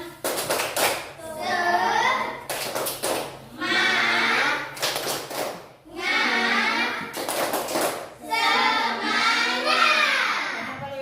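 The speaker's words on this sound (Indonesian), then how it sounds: "Coba tepuk semangat" A classroom of children performs a rhythmic clapping chant, bursts of quick clapping alternating with sung or chanted phrases in repeated cycles, loud and close.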